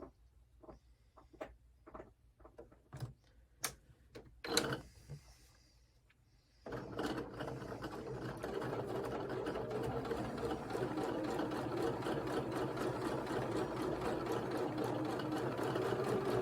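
A sewing machine stitches a quilt block, preceded by several sharp clicks and knocks as the needle is raised and the fabric is turned, then it runs at a steady close whir.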